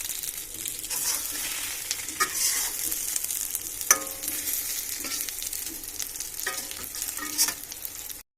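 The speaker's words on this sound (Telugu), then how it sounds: "ఇప్పుడు ప్లేట్కి తీసేసి ఇంకొక ఫ్రై వేసేద్దాం." Fish pieces frying in oil in a pan, a continuous close sizzle with stirring and scraping sounds and occasional louder spatters, no voices.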